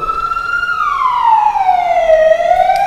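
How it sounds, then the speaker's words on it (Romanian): Ambulance siren wailing loudly and steadily close by, its pitch sliding slowly downward as it passes over a low traffic rumble. "Să lăsăm să treacă salvarea."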